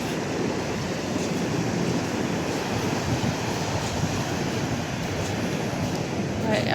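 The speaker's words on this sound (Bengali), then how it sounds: "সমুদ্রের সাউন্ড এত সুন্দর সাউন্ড" Sea waves roll and break continuously on the beach at Cox's Bazar in the morning, a steady broadband wash of surf with wind buffeting the microphone throughout.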